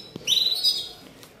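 A songbird offered for sale gives a bright, high chirping call of about half a second, close and clear over a quiet room.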